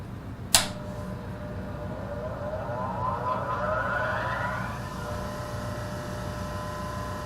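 A bench grinder is switched on with a sharp click, and its motor whine rises in pitch as it spins up, then settles into a steady hum that runs on alone.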